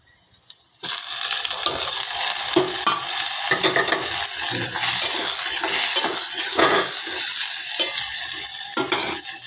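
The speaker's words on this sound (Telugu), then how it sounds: "ఇలా టమాటా బాగా ఆయిల్లో మగ్గనివ్వాలన్నమాట" Tomatoes fry in oil in a pan for okra tamarind stew, with a steady, fairly loud sizzle after a brief quiet start and light clinks of stirring throughout.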